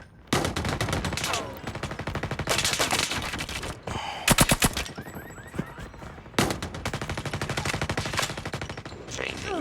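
A nail gun fires in rapid automatic bursts in Call of Duty Mobile, with loud, close rattling volleys separated by brief pauses and a few isolated shots and game sound effects in between.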